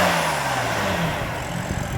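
BMW M3 with a 3-liter twin-turbo inline six, revving in a steady mid-pitched drone that rises slightly and stays loud and close throughout, no talking.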